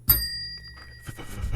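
A single bell strike opens an improv comedy scene, sharp and loud at first, then ringing out in a steady shimmering tone for about a second before faint voices and stage noise rise behind it.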